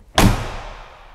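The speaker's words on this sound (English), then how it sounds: "Closing the door." Door of a Mercedes G-Class Brabus G800 shutting with a single heavy, solid thud that rings briefly and fades, close and clear.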